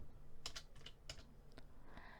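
Keys clack on a computer keyboard during data entry into accounting software, a quick, uneven run of close, crisp taps in small bursts over a faint hum, with no talking.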